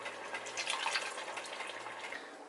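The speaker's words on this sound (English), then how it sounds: "A little water and shake it. And then we're gonna pour it in." A little water rinsed from a jar is poured into a pan of sauce on the stove, a steady close splashing trickle with no talk.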